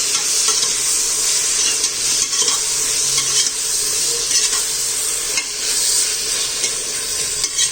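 Chicken biryani masala being stirred and mixed in a pan, with steady scraping and turning over a constant loud sizzle, no voices.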